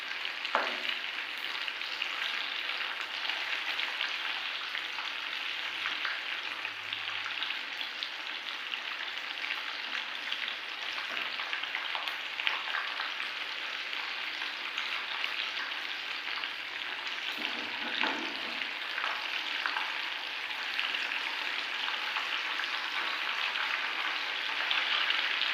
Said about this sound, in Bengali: একদিকগুলো প্রায় ভাজা হয়ে গেছে, এবার অন্য দিকগুলো আস্তে আস্তে উল্টে দিই।